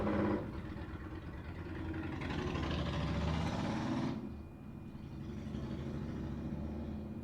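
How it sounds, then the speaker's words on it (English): A motorcycle passes outside, heard through a room as a muffled engine rumble that swells and fades over several seconds, then leaves a low steady drone behind. "sorry, this is a motorcycle outside"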